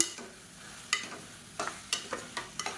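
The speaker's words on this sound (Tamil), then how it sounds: "இப்போ இதே எண்ணெயில் சேர்த்து வதக்கி விட்டுக்கலாம்" Radish slices sautéing in oil in a pan: a quiet, steady sizzle broken by several sharp spatula scrapes and taps that come closer together toward the end.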